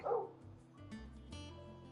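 A dog barks in Final Fantasy XVI, one loud bark up front followed by a few softer yips and a whimper, close and alone over quiet background music.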